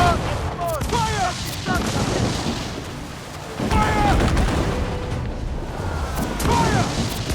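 Ship cannon fire in Assassin's Creed 4 Black Flag, heavy booming volleys during a naval battle with crashes and debris, loud and close, with shouting voices and crew calls between the blasts.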